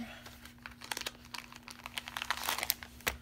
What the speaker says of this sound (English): Excuse the crinkling noise. Dutch has his toy in his bed over here.